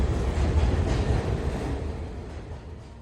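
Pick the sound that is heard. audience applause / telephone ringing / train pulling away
train pulling away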